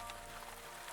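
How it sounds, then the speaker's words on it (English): Rain falls on a night around an old bookshop, a soft, even hiss that stays low and continuous as if heard through the walls from far away. "the murmur of the rain persists in the walls, low and continuous and very far away"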